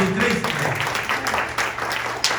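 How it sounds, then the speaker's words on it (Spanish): A church congregation applauds during a sermon, a dense, steady wash of clapping heard from within the crowd, loud and unbroken for a couple of seconds. "Denle un aplauso fuerte a Jesucristo."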